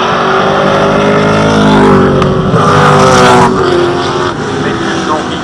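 V8-powered touring cars, Holden, Ford and a Chevrolet-V8 BMW, race at the front of the field at Winton, a loud roaring engine din under steady commentary.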